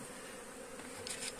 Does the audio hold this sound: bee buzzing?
yes